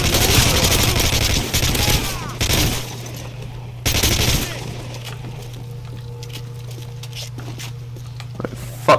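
Rapid automatic gunfire rattles in bursts in Call of Duty MW3, with loud sustained volleys broken by short pauses and a steady low drone of the game running underneath.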